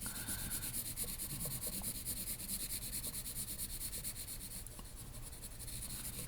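A pencil shades an isometric drawing on paper with quick, rhythmic back-and-forth scratchy rubbing strokes, close and soft, continuing steadily without pause.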